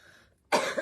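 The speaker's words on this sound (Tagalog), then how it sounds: "May kunti tayong ubo." A single short, close cough comes suddenly after a brief quiet pause, loud and breathy against a near-silent background.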